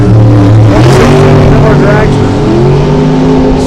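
Drag race cars launching down the strip, one powered by a 632 cubic inch big block Chevy, roar loudly and continuously with a dense, steady engine drone under crowd or announcer noise.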